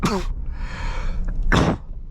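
Two sharp bursts of breath inside a 2027 Infiniti QX65, a brief one at the start and a louder explosive sneeze later, with quiet breathing between.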